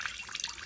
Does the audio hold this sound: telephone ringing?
no